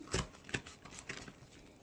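A tarot deck being shuffled by hand, a few quick, soft papery riffles heard close and quiet with no talking.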